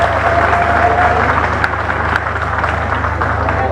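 Warm applause at a formal ceremony honouring victims of the Kaporo Rails and Kipé demolitions, requested for a presidency minister and secretary-general; steady continuous clapping from a crowd across the whole stretch, with no speech over it.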